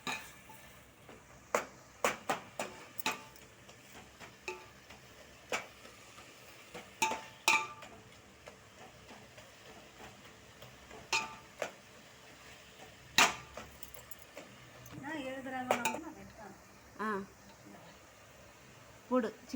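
Tomato and onion sautéing with salt in a pan for chicken biryani, heard mostly as scattered metal spoon scrapes and clinks against the pan at irregular intervals, with a soft scraping stretch near the end.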